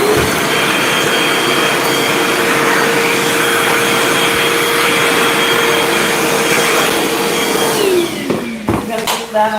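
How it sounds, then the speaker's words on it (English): A vacuum cleaner runs steadily at close range with a constant motor whine, then winds down and cuts off near the end with a few knocks; faint voices are present underneath. "Watch a man vacuuming."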